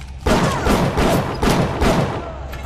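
Gunfire in Bioshock: a quick series of loud, echoing shots in close succession, roughly four or five heavy blasts with reverberant tails, no voices.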